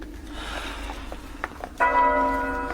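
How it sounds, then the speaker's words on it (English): A church bell rings out in a quiet town in the early evening, a single sustained ringing tone that begins abruptly after a few faint knocks and rumbling ambience, with no talk. "Why are they ringing that bell?"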